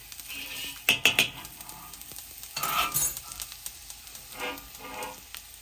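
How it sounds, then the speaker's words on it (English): Ginger is set down in a pan of oil over moderate heat for a Kung Pao shrimp dish. It sizzles softly alongside several sharp clinks and scraping stirs, and the sound is close and moderately loud. "You don't need high heat in this process because you want to cook your aromatics. So we're putting the ginger down."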